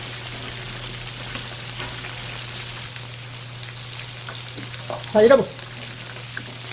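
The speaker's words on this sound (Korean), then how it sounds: "붙어 있는 건 튀기면 됩니다." Pork and green onion for sweet and sour pork deep-fry in hot oil, giving a soft, steady sizzle with a brief louder bubbling burst near the end. Someone speaks briefly.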